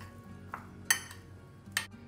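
A spoon mixes spinach and onion stuffing into crumbled paneer in a bowl. It gives a few sharp metallic clinks against the bowl between soft scraping and stirring.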